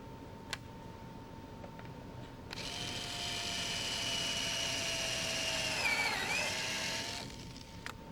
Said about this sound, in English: drill a 5/16 inch hole in each